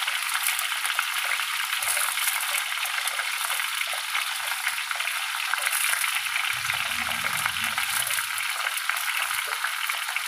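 Chunks of mango cooking in a pan for jaggery mango pickle, a steady close sizzle and hiss with light stirring, plus a low rumble partway through.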